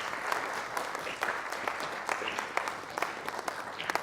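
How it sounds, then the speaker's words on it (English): An audience at a motivational talk gives a round of applause, a steady crowd of clapping hands with sharper individual claps popping out near the front, no speech over it. "So please, a round of applause to our next architect"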